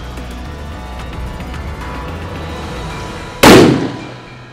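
A single loud 5.56mm rifle shot fired at a bulletproof armor vest, a sharp blast that rings out and decays over about a second after a stretch of quiet outdoor background.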